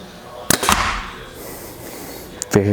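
A compound bow, either a Prime Black 5 or a Bowtech Revolt X, is shot once with a sharp, loud string release and thump, followed by a short clatter near the end.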